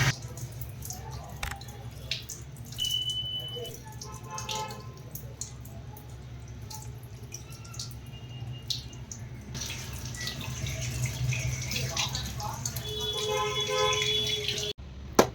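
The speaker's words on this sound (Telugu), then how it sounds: "దీన్ని ఇప్పుడు మంచిగా వాష్ చేసుకుందాం." Cassava is washed by hand under running water, with steady trickling and splashing, squishy handling sounds and occasional clinks, close and moderately loud throughout.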